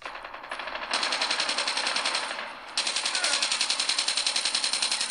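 Rapid automatic gunfire from Call of Duty played on an OPPO Reno 2 phone, a dense continuous rattle of shots that briefly dips and then resumes at steady loud volume.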